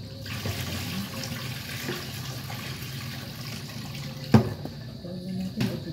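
Tap water running steadily into a sink while tilapia fish are washed by hand, a continuous near splash with a few sharper knocks of handling.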